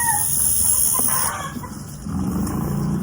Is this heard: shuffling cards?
no